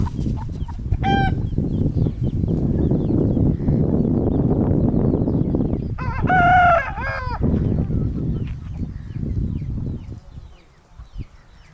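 A desi country rooster crows loudly nearby, with a shorter call early on, amid a busy village farmyard hum of other birds and background noise.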